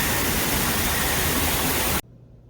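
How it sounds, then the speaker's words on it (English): Steady, loud rushing water like a waterfall, a broad hiss that stops abruptly, leaving quiet background hum. "I love the waterfall."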